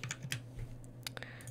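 Computer keyboard keys are pressed in quick, irregular clicks, about a dozen light taps close by, with a low steady hum underneath and no talk.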